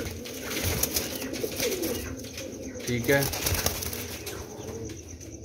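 Pigeons in a loft coo softly at close range amid wing flaps and rustling, while someone speaks briefly.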